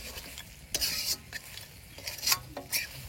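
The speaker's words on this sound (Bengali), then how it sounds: "গ্রেভির জন্য জল অ্যাড করা হবে কিছুটা" Chicken curry sizzles in a pan as water goes in for gravy, with a spoon stirring in several scraping strokes; the frying hiss swells and fades between stirs, close and moderately loud.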